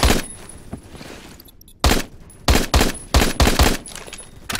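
MSG 90 rifle fire in the game Phantom Forces: loud, sharp single shots, about seven spaced in quick succession after a short quiet gap, with no talking.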